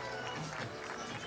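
A crowd at the Glasgow 2014 Commonwealth Games cheers for England in a steady, distant roar. It is fairly faint and sounds like a large arena audience.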